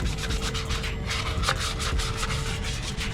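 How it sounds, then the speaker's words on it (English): Close, steady abrasive rubbing of sanding on an Audi car wheel being prepped for paint, continuous rasping strokes with no talking. "Sanding these wheels down."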